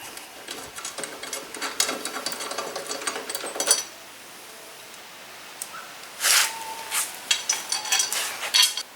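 Hand tools work at a Briggs & Stratton lawn mower blade, giving off bursts of metallic ratcheting and scraping. A busy stretch is followed by a quiet pause, then more clicks and clanks close by.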